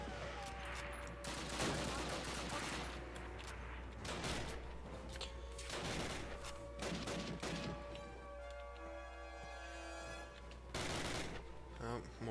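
Gunfire in the video game Call of Duty, where a World War II mission has repeated rifle shots and bursts of automatic fire under a constant game rumble, with a voice talking over the action.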